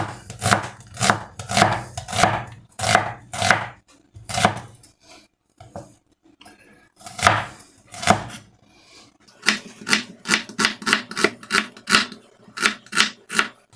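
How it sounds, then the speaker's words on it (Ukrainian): A knife chops onion into half rings on a board, in steady bursts of crisp knocks with a short pause, then a faster run of regular strikes, close up and alone. "наріжемо нашу цибулю півкільцями"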